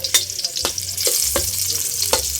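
Garlic frying in hot oil until golden brown, with a steady close sizzle broken by several sharp stirring scrapes from a pan.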